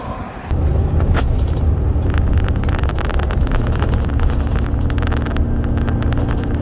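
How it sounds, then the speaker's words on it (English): A Brisbane Bus Lines BCI JXK6127AT bus, operating as a rail replacement service, runs with a steady low engine rumble and loud wind buffeting after a brief quieter opening, with scattered knocks and rattles. "we're checking out this Brisbane Bus Lines BCI"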